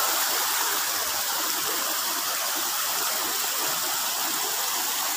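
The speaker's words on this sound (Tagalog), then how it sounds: "Mahaba itong ano, mula pa doon sa kabundukan to galing na ilog." A mountain-fed river stream in Carigara, Leyte rushes steadily with a dense, continuous broadband wash of flowing water, close and loud throughout, with no voices.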